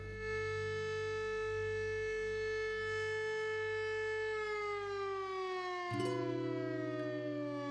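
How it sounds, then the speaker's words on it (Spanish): A town siren in Putaendo, in Chile's Aconcagua valley, sounds for noon. It gives a loud, steady, sustained wail that dips lower in pitch near the end, alone with no voices. "La sirena marca el mediodía en este pueblo gentil y tranquilo."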